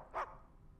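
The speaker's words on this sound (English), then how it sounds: "Oh, the little dog." A small dog in the video game Uncharted 4 gives one short, sharp bark that stands out briefly over quiet background sound.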